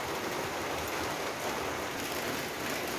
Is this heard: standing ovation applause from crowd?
no